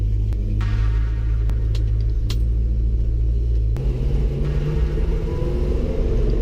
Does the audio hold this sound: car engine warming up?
yes